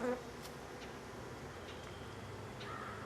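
Bees buzz steadily around a hive being winterized, a dense close swarm hum with a few louder individual bees passing near, continuous for the whole stretch.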